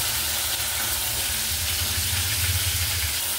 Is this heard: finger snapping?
no